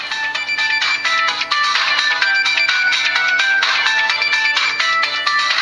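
An incoming call sets off the ringtone of an LG dLite phone, a loud, continuous electronic melody of bright repeating notes heard alone with no talking.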